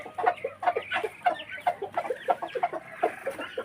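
Brooding Texas chickens cluck in a steady, close run of short calls, one after another for a few seconds, with no talking over them.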